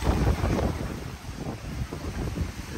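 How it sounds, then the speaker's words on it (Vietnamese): Strong wind buffets the microphone outdoors in a garden, a loud continuous low rumble and roar with shifting gusts and no speech. "Gió rất là mạnh luôn."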